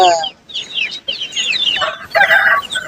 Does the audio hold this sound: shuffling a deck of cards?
no